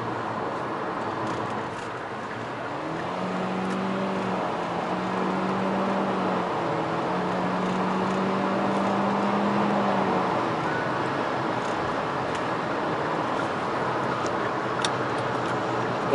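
Hyundai Avante facelift cruising at 110–120 km/h in sport mode on a highway, a loud steady engine and exhaust drone with road and wind roar filling the cabin throughout.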